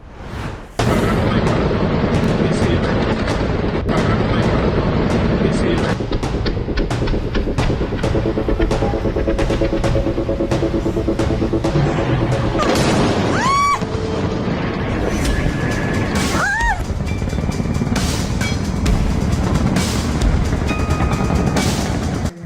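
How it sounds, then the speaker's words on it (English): Explosions go off back to back at night over Caracas, a string of heavy booms and cracks with whistling streaks climbing overhead and bursts of rapid fire, all heard over a constant roar of background noise. "back-to-back explosions tore through the dead of the night silence in Venezuela."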